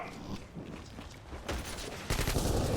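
Shotgun fire in the online shooter BlackFire, dense bursts of loud gunfire growing stronger toward the end, with heavy blasts stacked close together and no talk over them.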